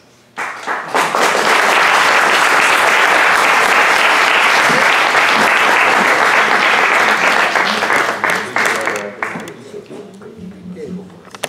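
At a tribute evening in Cali, an audience breaks into loud, sustained applause for writer Miguel Méndez Camacho. The clapping swells after a second, holds strongly, then thins out as a voice begins to speak near the end.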